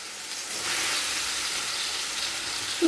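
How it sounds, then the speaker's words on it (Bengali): Chicken pieces frying in about two spoons of hot oil in a pan for a spicy chicken naan filling, giving a steady, moderately loud sizzle with a brief sharper burst at the very end. "এরপর চিকেন তেলের মধ্যে দিয়ে দেব।"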